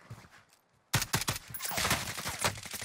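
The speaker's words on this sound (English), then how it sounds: "Oh, he's starting to shoot." Call of Duty Warzone enemy gunfire opens after a quiet moment, a rapid burst of sharp cracks that settles into a continuous, dense clatter of shots, fairly close and loud.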